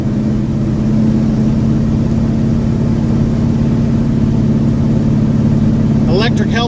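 A 1969 Pontiac GTO's big 428 V8 rumbles steadily while cruising, a loud, continuous low engine drone throughout with a brief burst of higher rattling near the end.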